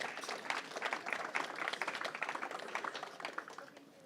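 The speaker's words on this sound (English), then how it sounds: "Give them a big round of applause" Audience applause welcoming two panel guests onto the stage at an event: a continuous round of many hands clapping, fairly distant and even, gradually tapering toward the end.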